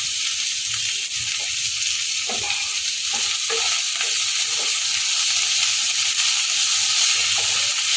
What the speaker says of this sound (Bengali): হাই ফ্লেমে সবগুলোকে আবার একসাথে ভালো করে নাড়বো